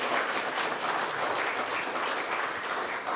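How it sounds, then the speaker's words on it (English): An audience at a legislative candidate forum applauds the candidates, a dense, steady wash of clapping hands that holds for several seconds without talk. "let's give the candidates a round of applause for their responses"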